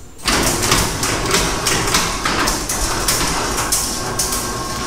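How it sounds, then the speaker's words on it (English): A garage door driven by a Wi-Fi-connected opener rolls open with a steady, loud mechanical rumble and rattling clatter, continuous from start to finish after a brief quiet moment, with no talking over it. "once I press this button right here, this is gonna turn on and the garage door is gonna open up."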